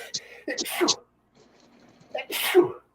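A close, sharp sneeze bursts out with a quick intake and explosive release, followed after a short pause by a second loud sneeze.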